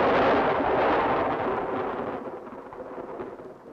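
Deep thunder rumbles loud and broad in a Sherlock Holmes audio drama, a sustained roll that gradually fades over a few seconds with no voices.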